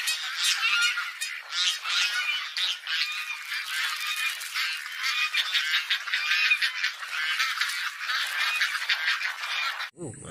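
A toy duck quacks in a steady stream of squawky, honking calls that carry on without pause, fairly loud and close, ending with a brief thump.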